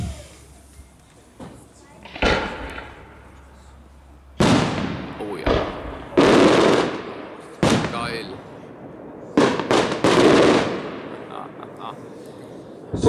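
Fireworks demonstration by Pyrounion with 100 mm shells: a series of sharp, loud bangs and booming bursts, some close together, ringing out over about thirteen seconds against faint background voices.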